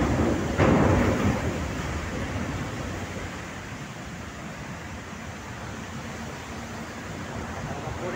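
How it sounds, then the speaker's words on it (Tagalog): Steady, heavy rainfall roars as a dense broadband wash, with a brief louder gust early on, no voices present. "Lakas po ang ulan dito mga idol."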